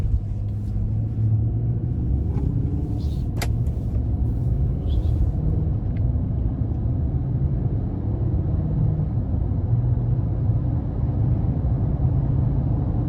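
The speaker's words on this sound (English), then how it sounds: "we're gonna go ahead and take this Titan out on the road for a quick test drive." A 2021 Nissan Titan Platinum Reserve pickup with its 5.6-liter engine driving on a road, heard from inside as a steady low rumble and road hum with a few faint clicks, no one talking.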